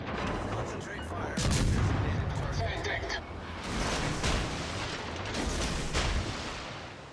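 Naval guns boom in the World of Warships Legends game: repeated heavy cannon blasts and rolling explosions arrive in clustered bursts with several loud peaks, while a voice talks faintly underneath.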